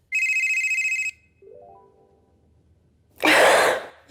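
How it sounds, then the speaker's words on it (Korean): A telephone rings with an incoming call, loud and close, in one sustained electronic trill lasting about a second, followed by a quieter tone and a short burst of noise. "한 통의 전화가 걸려왔습니다."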